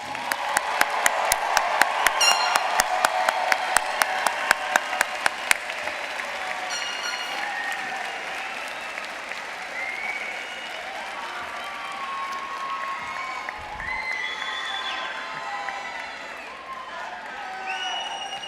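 A commencement crowd gives graduates a round of applause, with a burst of sharp rhythmic clapping up front that swells into broad sustained applause and cheering, whistles and shouts rising over the crowd.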